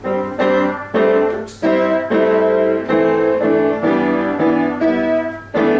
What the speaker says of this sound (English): Here are some jazz voicings of the same chord